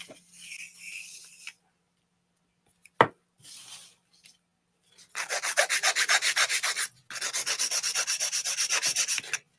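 A 100/180 grit nail file shapes fingernails in quick, rhythmic rasping strokes, first a few short scratchy passes, then two longer runs of steady back-and-forth filing, close up and alone.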